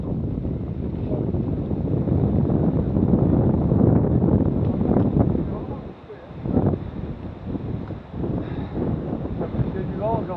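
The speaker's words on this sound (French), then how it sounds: "C'est du vent aujourd'hui." Wind blowing outdoors during a mountain-bike ride, a loud steady roar buffeting the microphone with a brief lull partway through and faint voices underneath.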